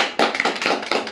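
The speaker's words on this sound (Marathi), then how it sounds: "त्यांनी टाळी वाजवली" A handful of sharp, irregular hand claps from an audience at a public talk on health rights, close and crisp with no voices over them.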